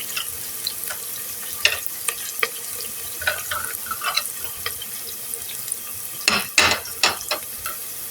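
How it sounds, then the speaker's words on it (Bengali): Onions and ginger fry until light brown in a pan for a cauliflower curry, with a soft steady sizzle broken by sporadic crackles and clinks of stirring. No one talks. "পেঁয়াজগুলো আমি ভালো করে হালকা ব্রাউন করে ভেজে নিব।"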